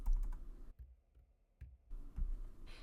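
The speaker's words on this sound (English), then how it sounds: "I'm back in Canva and I'll just type in those measurements." Measurements typed on a computer keyboard, a few quick close clicking keystrokes in two short bursts separated by a brief quiet gap, with no voice.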